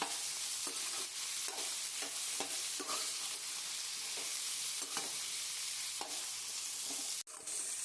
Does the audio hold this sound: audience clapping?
no